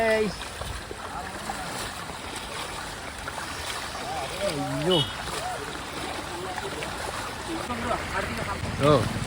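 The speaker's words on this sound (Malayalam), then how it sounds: "റോട്ടിൽ കൂടെ വെള്ളം വരുന്ന കാഴ്ച നോക്കിയേ" Floodwater rushes over a road near a bridge during heavy rain, a broad steady wash of flowing water heard up close, with someone talking over it throughout.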